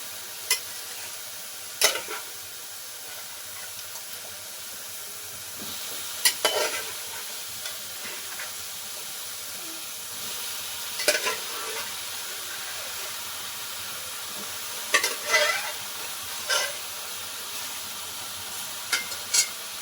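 Boiled jackfruit seeds are stirred into a gravy frying in a pan, with a constant hiss and sizzle and a few louder scraping bursts from the spoon, close and with no talking.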